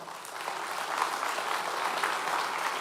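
Church congregation applauding during a Spanish-language sermon, a steady, dense burst of clapping that holds evenly from start to finish.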